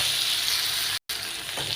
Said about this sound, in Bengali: এবার এটা খুব ভালোভাবে হলুদের গন্ধটা না যাওয়া পর্যন্ত একটু নেড়ে ফেড়ে ভাজা করে নেবে